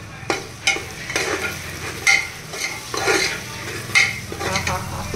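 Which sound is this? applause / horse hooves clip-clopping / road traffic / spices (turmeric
spices (turmeric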